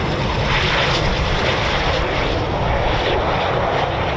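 A Eurofighter Typhoon FGR4 fighter jet flying a circuit at RAF Coningsby makes a loud, steady engine roar that fills the whole stretch without letting up.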